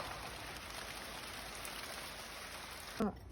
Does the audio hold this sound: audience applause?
no